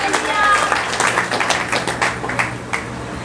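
Loud applause from an audience at a Christian ministry gathering, a dense wash of clapping that runs the whole time, strongest at the start and easing slightly, with voices mixed in.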